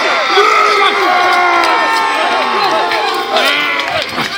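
A large outdoor crowd cheers and shouts at a Battle of Bannockburn reenactment, a dense, sustained roar of many voices with whoops and yells rising and falling throughout.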